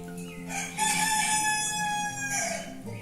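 A rooster crows loudly and close by, one long drawn-out cock-a-doodle-doo filling the whole moment.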